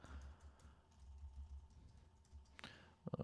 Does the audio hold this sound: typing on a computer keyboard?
yes